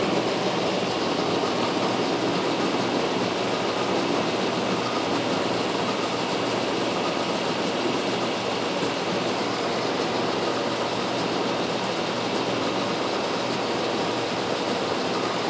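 A freshly reground cutter taking a light 0.050-inch cut at 2 inches per minute on a Kearney & Trecker milling machine, giving a loud, steady, continuous grinding whir with no talk.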